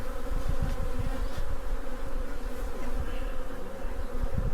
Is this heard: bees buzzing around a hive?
yes